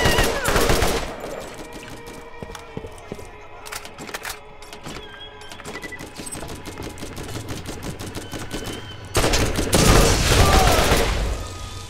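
Level 4 Vladof gun firing in a video game, a loud run of rapid shots at the start and again near the end with scattered quieter clicks and pops between them.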